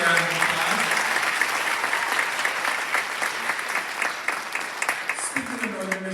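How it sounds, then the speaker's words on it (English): Audience applause for a choir singer at a high school holiday concert, a dense, steady wash of clapping that thins toward the end as a few voices come in. "Give him another round of applause."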